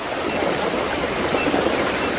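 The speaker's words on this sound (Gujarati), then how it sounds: "આ બધું અમારા ગામનું તલાઈ તૂટ્યું ને એનું પાણી છે. તો ખાલી તમે જુઓ પાણી 4 કોર પાણી થઈ ગયું." Floodwater from a burst village pond rushes across flooded ground in a constant, dense roar of flowing water, close and steady throughout.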